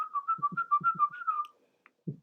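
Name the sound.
somebody whistling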